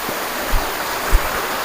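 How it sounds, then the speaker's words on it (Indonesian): A river stream flowing over rocks, a steady broadband rush of water that fills the whole clip with no talk, with a couple of brief low thumps mixed in. "Tapi kita harus menyusuri sungai ini, Mas."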